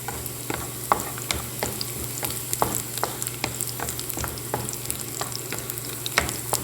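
Shakshuka, an Arabic egg dish, frying in a pan with a steady close sizzle, broken by frequent sharp pops and the scrape of stirring, and a low hum underneath.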